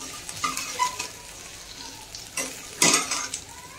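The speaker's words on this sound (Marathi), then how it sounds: "आता गोल्डन कलर होईपर्यंत फ्राय करून घ्यायचा" Spices sizzle softly in a pan while frying to golden as a utensil scrapes and stirs, with a sharper clatter of stirring near the end.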